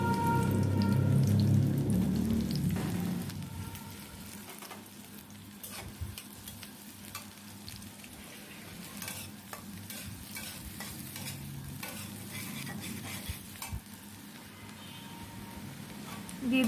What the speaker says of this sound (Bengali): এখন দিয়ে দিচ্ছি পেঁয়াজ কুচি পরিমাণ মতো। পেঁয়াজটা হালকা ভেজে নেব।